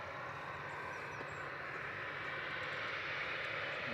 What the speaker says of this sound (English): Singapore on approach